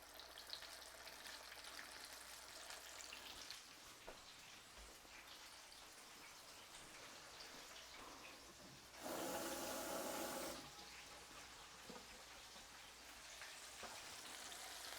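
Steady sizzling and crackling of chicken frying in hot oil, heard close, with a louder burst of hissing spatter partway through.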